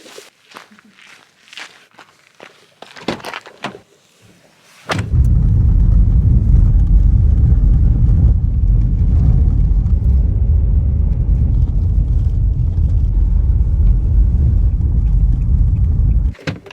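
Car rolling along a road into a national park in the Atacama Desert, a loud steady engine and tyre rumble that starts abruptly after a few seconds of quieter shuffling and movement, then holds close and even to the end.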